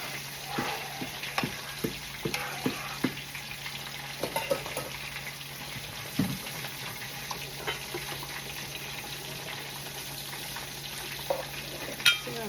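A spoon stirs food cooking in a pot on a stovetop, with a steady frying sizzle and water running from a nearby sink throughout, punctuated by light scraping knocks of the stirring.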